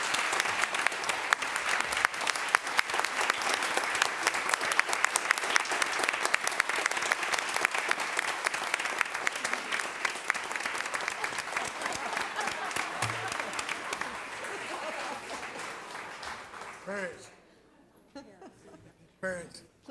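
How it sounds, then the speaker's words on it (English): Sustained audience applause for students at a school board meeting, loud dense clapping from a packed room with some cheering and light laughter, thinning out and fading near the end as a few voices carry on. "Please, all of you, join me in a big round of applause for all these brilliant students."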